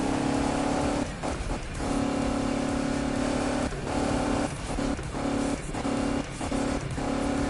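A car engine revs hard and steadily in Need For Speed on PS4 while driving along a highway. The loud roar stays close and continuous, with brief dips as the throttle eases off and picks up again.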